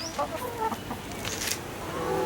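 Hens clucking softly inside a chicken coop, a few scattered short calls that stay faint and fairly close.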